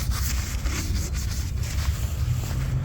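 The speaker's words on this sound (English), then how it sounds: "Let's wipe it off." A napkin wiped across the body of a 2006 Lincoln Town Car Signature Limited with rust spots, a close, continuous soft rubbing and scuffing with a low rumbling background and no speech.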